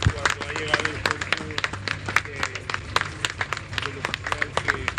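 Family, friends and comrades applaud outdoors at the homecoming of a fallen navy member in Santa María del Real, Olancho, sharp irregular handclaps from a small crowd continuing steadily over murmured voices.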